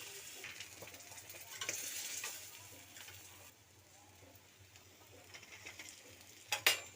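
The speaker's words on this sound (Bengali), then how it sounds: "আবারও এইভাবে সব মাছটাকে ভেজে নেব।" Pieces of katla fish fry in oil in a pan: a quiet sizzle with occasional stirring and scraping, and a brief sharp clatter near the end.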